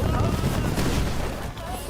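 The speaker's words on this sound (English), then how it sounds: "Explosions." Explosions in the video game Where Winds Meet, set in the city of Kaifeng: dense overlapping booms and crackling blasts, loud and continuous, fading slightly toward the end.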